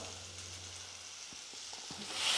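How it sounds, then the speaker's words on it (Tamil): Onion and tomato sautéing in a pan make a soft, quiet sizzle with a few faint scraping or stirring taps, and the sound rises slightly at the end. "வெங்காயம் தக்காளி எல்லாம் நல்லா வதங்கிடுச்சு"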